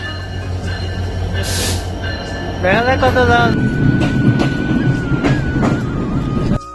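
A passenger train running at night rumbles steadily with a low wheel drone inside the carriage, brief metallic squeals and clanks over the rails, and people talking nearby.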